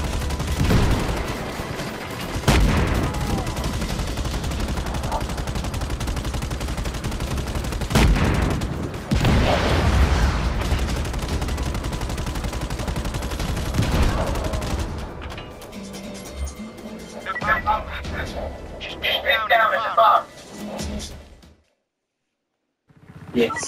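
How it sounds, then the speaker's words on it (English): A minigun in Just Cause 3 fires in long, dense, sustained bursts with a few heavy booms mixed in. It breaks off into scattered shots and a short silence near the end. "You cannot escape the mighty minigun!"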